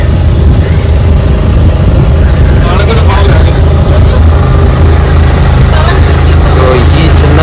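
A small boat travels through a narrow mangrove channel in Kerala, its engine a loud, steady low rumble that fills the whole stretch without pause.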